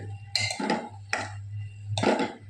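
A spoon stirs cooked rice in a pan, making three separate scraping strokes over a steady low hum from the stove or kitchen.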